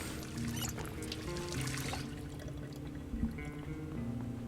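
In Project Zomboid, water runs from a bathroom sink into a bottle, a steady trickling pour that continues evenly without talk.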